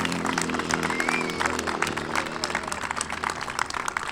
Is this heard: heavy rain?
no